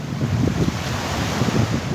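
Sea waves and wind on the Izmir seafront make a constant rushing wash with buffeting gusts against the microphone, steady and fairly loud with no voices.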